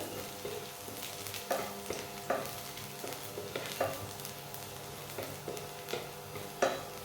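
Five garlic cloves frying in a pan over a medium flame, a soft steady sizzle punctuated by regular spoon-against-pan clinks as they are stirred, close and without speech.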